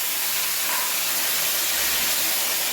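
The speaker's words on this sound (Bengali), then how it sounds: "তেল ছিটতে বলে ঢেকে দিচ্ছি বারবার করে" Hot oil in a covered pan hissing and spattering after ginger and green chili paste go in with tomato for Kashmiri aloo dum, a loud, continuous sizzling hiss with no break and no talk.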